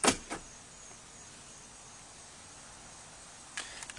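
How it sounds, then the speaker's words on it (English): Electric door locks on a 1989 Cadillac Fleetwood Brougham clack shut in a quick double thunk at the start, then again in a short pair near the end, with quiet cabin hush between. "As you can see, she's got electric door locks."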